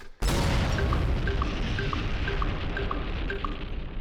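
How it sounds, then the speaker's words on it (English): A sudden deep boom bursts open and rolls into a long rumbling tail in The Universim, with a faint regular ticking tone pulsing through the fading noise. "Several nuggets died in the explosion."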